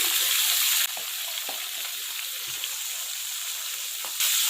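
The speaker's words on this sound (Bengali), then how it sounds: "সবজিগুলো খুব ভালোভাবে কষিয়ে নেব, বেশ লাল লাল করে একটু ভাজা ভাজা হয়ে যাবে" Vegetables frying in a pan with salt and turmeric as the base for a prawn and spinach curry, a continuous close sizzle with occasional soft stirring clicks, louder for a moment at the start and end.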